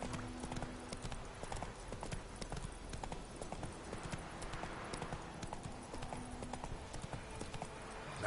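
Horse hooves clip-clopping steadily in The Witcher 3: Wild Hunt, a continuous trotting patter over faint ambient game background, moderately quiet with no talk.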